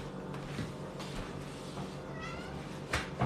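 A cat meows softly a couple of times against a quiet, steady background hum, the last cry a little louder near the end.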